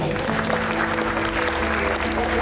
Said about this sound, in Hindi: दुल्हन की सहेलियों के लिए जोरदार तालियां हो जाए।